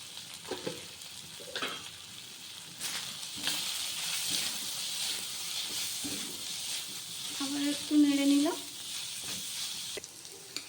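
Spice paste with red chilli powder fries in hot oil and is stirred steadily, giving a continuous close sizzle broken by scraping strokes. A voice speaks briefly near the end.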